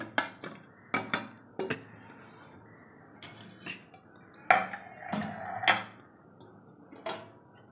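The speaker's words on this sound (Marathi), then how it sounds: "आता मी कुकरचं झाकण उघडते" A pressure cooker being opened after cooling while cooking colocasia leaves: a series of sharp metallic clinks, taps and scrapes of the lid against the pot, close and irregular with quiet pauses between them, no speech.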